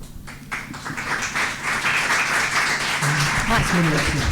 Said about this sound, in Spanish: le daría un fuerte aplauso por parte de todos nosotros y damos inicio a la conferencia